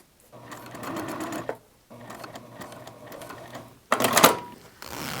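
A sewing machine runs stitching a straight seam in two sustained bursts with a brief pause between them, followed by a louder clattering rattle near the end. It sounds close and clear, with no voices.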